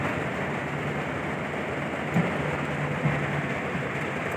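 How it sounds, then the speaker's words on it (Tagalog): Steady, dense hiss of heavy rain fills the whole clip, a constant broadband wash with a faint low hum beneath and no voices. "sobrang lakas ng ulan"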